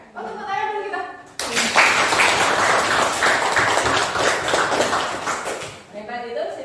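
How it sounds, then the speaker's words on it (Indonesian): Students in a classroom break into brisk, loud clapping after a teacher's call, the applause surging in suddenly and holding for several seconds between stretches of speech before and after. "Oh, tepuk tangan dulu kita."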